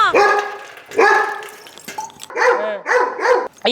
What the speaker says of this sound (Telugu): మొరుగుతుంది కుక్క